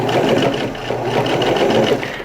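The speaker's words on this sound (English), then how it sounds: "Now I'm just running a top stitch along" A sewing machine runs steadily, stitching a reinforcing top stitch along the serged edge of a homemade polo-style shirt, a continuous close mechanical whir at even loudness with no voices.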